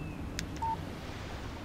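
Short electronic keypad dialing tones from a phone in the Alan Wake video game: a few quick beeps followed by a slightly longer steady tone, fairly quiet over a low background rumble.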